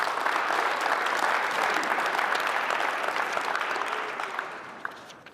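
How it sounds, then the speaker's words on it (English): An audience at a high school sports signing day claps in a dense, steady round of applause that fills the room, then thins out and fades over the last second or so. "Let's give Drew a round of applause."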